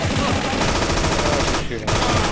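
Rapid gunfire in the video game Infernal, a loud, continuous stream of rattling shots with no pauses, close and dominant throughout.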